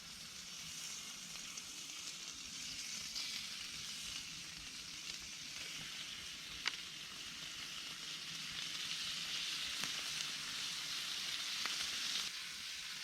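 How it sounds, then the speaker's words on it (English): Bacon frying over a campfire, a steady faint sizzle and crackle with a few sharp pops, continuous and close with no talking. "Get ready for a bit of sizzle sizzle nation with the bacon."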